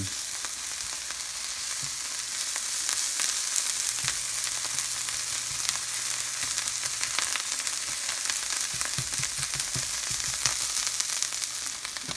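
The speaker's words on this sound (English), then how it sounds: "I think I'm going to go ahead and dump the eggs in." Eggs sizzle steadily in a hot pan with spinach and onions, a constant close frying crackle with faint stirring clicks and no talking.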